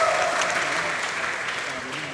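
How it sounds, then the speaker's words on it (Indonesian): A university crowd at a stand-up comedy show bursts into loud, sustained applause that gradually fades, with some voices mixed in. "Boleh tepuk tangan buat kita semua teman-teman"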